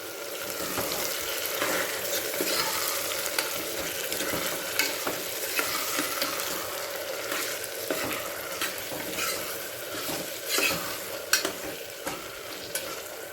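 Tomatoes frying in oil in a pan for a Telugu broad bean and potato curry, stirred steadily with a spoon: continuous close sizzling with repeated scraping strokes and occasional soft clacks, no voices.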